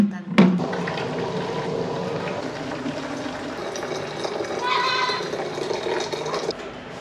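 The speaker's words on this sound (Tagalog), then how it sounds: "Maglalagay ako tubig dahil magre-refill tayo sa bitan." Tap water runs steadily into containers being filled for a refill, a continuous rushing splash that starts with a sharp clunk and keeps going for several seconds at close range.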